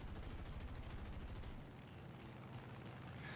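Aircraft cannon fire in the War Thunder video game, a dense rapid stream of loud overlapping shots that fills the clip, easing slightly partway through into continued heavy rumbling fire.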